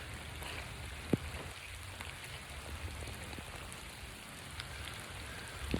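Steady rain falling through woodland, a soft continuous patter on leaves and ground with an occasional sharper drip, no voices.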